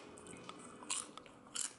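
Popcorn seasoned with chili lime and cheddar is bitten and crunched close up in quick bursts, with a couple of louder crisp bites standing out against a quiet background.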